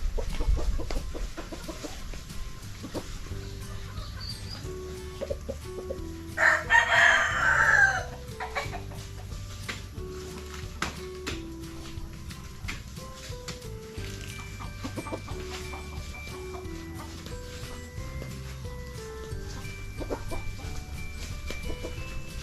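Chickens on a farm during a harvest, clucking steadily throughout with a loud rooster crow rising partway through, close and clear against a quiet background.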